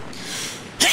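A single sharp sneeze bursts out near the end, close and loud, following a stretch of quiet background hiss during online Fortnite play on Nintendo Switch.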